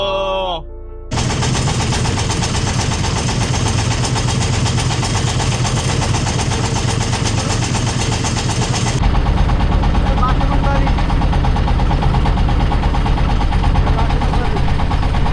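Trawler boat engine running loud and close, a heavy rapid chugging drone that carries on steadily after a brief start, getting even louder partway through.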